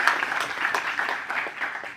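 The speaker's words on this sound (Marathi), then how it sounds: "त्यांच्यासाठी पण एकदा जोरदार टाळ्या" Applause from a studio audience at a Friendship Day celebration, a dense patter of clapping with small swells, moderately loud and continuous for two seconds.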